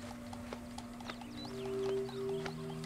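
Clip-clop of a large horse's hooves in Red Dead Redemption 2, steady near footfalls over a low ambient drone, with a faint whinny-like tone partway through.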